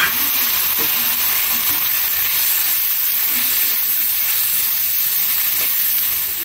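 Tomatoes fry with browned onions in a pan, giving a loud, constant hissing sizzle with faint stirring scrapes, unbroken for several seconds.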